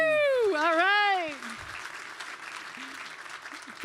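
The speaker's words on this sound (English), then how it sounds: "Can you guys just clap really, really loud?" Conference audience clapping loudly in a room next door, a dense broadband patter rising after a brief stretch of voices, with a whooping tonal cry sweeping up and down at the start.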